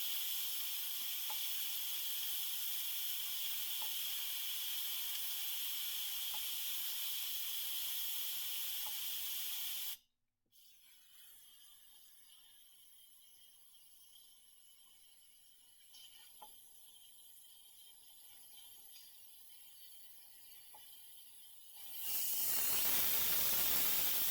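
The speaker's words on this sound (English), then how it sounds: "That's what normal release looks like, by the way." Steam venting from a pressure cooker after making pasta e fagioli, a loud steady hiss that cuts off suddenly, then a long quiet stretch with faint clicks before a strong hiss returns near the end.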